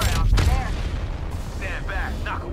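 Gunfire in Apex Legends booms heavily at the start, with rumbling impacts continuing underneath while a voice talks over the action.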